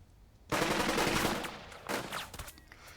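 Heavy sustained gunfire in the Burden of Command tactical wargame: a loud, dense burst of rifle and machine-gun fire that begins abruptly and rattles on continuously for about two and a half seconds.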